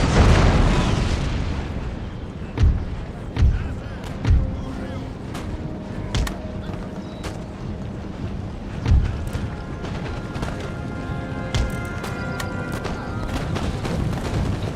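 Artillery fire in Total War Empire, a series of deep booms at irregular intervals, several in quick succession then a later one, over steady battle ambience and a speaking voice.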